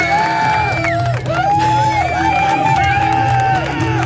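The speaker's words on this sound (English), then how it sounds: "the crowd just seemed to enjoy that one" Crowd noise at a high school football game between North Laurel and Pulaski, a continuous loud mass of voices with shouts and whoops rising above the steady crowd roar.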